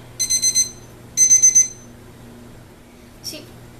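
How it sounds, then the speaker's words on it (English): An oven timer alarm beeps while a turkey is being prepared for roasting: two close bursts of four rapid, piercing beeps, then a faint short chirp over a quiet kitchen hum. "all we have to do is set the timer for 30 minutes"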